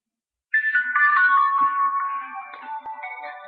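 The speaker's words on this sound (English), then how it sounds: "Somebody fucking calling me right now." A mobile phone ringtone suddenly chimes in after a brief silence, playing a bright melodic tune that carries on steadily to the end, close and clear with no talking over it.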